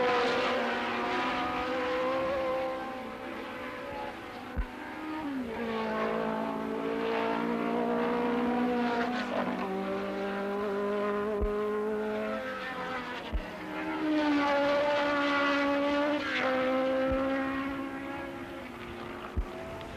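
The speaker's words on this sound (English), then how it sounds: "Gardner was holding fifth spot behind the Ferraris and Lotti and driving a steady fast race in the 54s" 1969 Tasman Series open-wheel race cars scream past on track, engine notes rising and falling in repeated Doppler sweeps, some near and loud, others fading into the distance, with brief clicks between passes.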